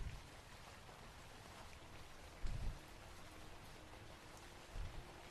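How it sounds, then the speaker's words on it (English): Rain in a song plays as a soft, steady patter and hiss, faint and continuous, with two brief louder low thumps partway through. "Okay, it's still raining. In the song."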